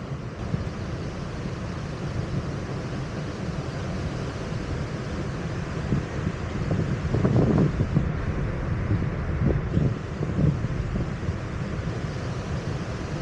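The roar of Niagara Falls, a steady, heavy broadband rush of falling water heard from nearby, mixed with gusts of wind buffeting the microphone.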